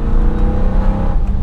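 A Corvette C7 passes by with a loud, low, rumbling engine drone, close and steady throughout the brief moment, with no talking.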